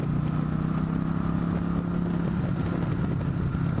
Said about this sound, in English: I rev at my Prius behind me.